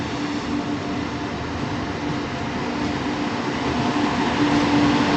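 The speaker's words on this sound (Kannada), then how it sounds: "ಈಗ ನಮ್ಮ ರೇಣಿಗುಂಟ ಮೈಸೂರು ಎಕ್ಸ್ಪ್ರೆಸ್ ಬಂದೈತ್ರಿ" Renigunta–Mysore Express pulling into Jolarpettai Junction, a steady broadband rumble of rolling wagons with a sustained low hum, growing slightly louder toward the end, no voices.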